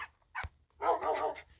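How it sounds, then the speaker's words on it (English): Several dogs in the Minecraft Bedrock video game bark in short sharp yips, one quick bark followed by a longer cluster of overlapping barks, fairly near and unaccompanied by speech. "I got 40 dogs here."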